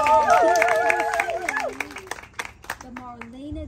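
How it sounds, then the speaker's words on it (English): Brief applause breaks out for performer Christina Linhart at a Taboo Thursday performance night at Bottega, scattered claps rising under a host's talk and then thinning into a few isolated claps. "Let's get a round of applause."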